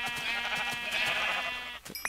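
Sheep in the video game Minecraft bleat in a long, wavering tone that is loud and close, followed by a few short clicks at the end, with no talk over it.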